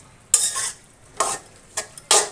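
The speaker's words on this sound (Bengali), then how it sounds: "ভালো করে নেড়ে চেড়ে মিশিয়ে দেব" Pumpkin shoot curry stirred in a sizzling pan, four short scraping stir strokes with bursts of frying hiss, separated by quiet pauses.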